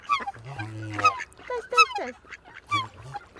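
Swans wintering on an open-water pond at a zoo, giving repeated honking, goose-like calls in short irregular bursts at close range, with faint voices in the background.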